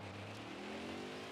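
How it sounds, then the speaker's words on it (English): Stock car engine in the racing game NASCAR Heat 5, a steady loud mid-pitched idle hum with rising harmonic tones as it revs up, continuous and close throughout. "let's get this car started"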